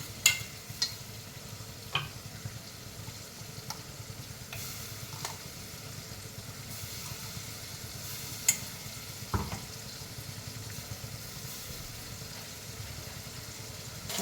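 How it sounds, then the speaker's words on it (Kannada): Ginger garlic paste fries in hot oil for mutton biryani, crackling in a soft, continuous sizzle, with scattered stirring clicks and scrapes breaking through now and then. "ಶುಂಠಿ ಬೆಳ್ಳುಳ್ಳಿ ಪೇಸ್ಟ್ ಹಾಕ್ತಾ ಇದ್ದೀನಿ"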